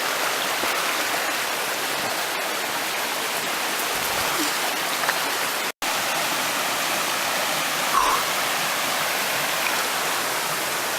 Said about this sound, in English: we made it to another river